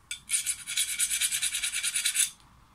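A needle file rasps across annealed steel in one steady run of about twenty quick, even strokes lasting two seconds, close and loud, with no talking.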